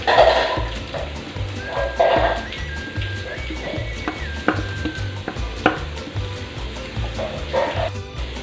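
A spoon stirs grated carrot into a spiced mixture in a pan for a carrot vada made with pappadam, giving repeated scraping strokes and sharp clacks against the pan in an uneven rhythm.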